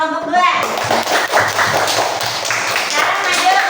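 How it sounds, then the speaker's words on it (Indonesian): A classroom group applauding together: a brief voice comes first, then a dense, sustained burst of many hands clapping at close range fills the rest. "Beri tepuk tangan kepada kelompok 2."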